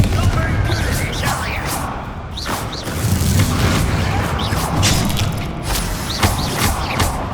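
Repeated booming blasts from the Bombarda explosion spell in Hogwarts Legacy, heavy thuds and crashes rolling one after another, loud and close, with a voice speaking amid the noise.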